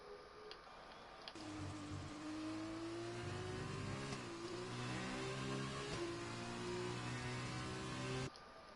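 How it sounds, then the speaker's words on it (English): Formula 2 race cars pulling out of the pit lane, a steady engine drone rising slowly in pitch for several seconds, loud and close with faint ticking over it. "we see more and more cars departing"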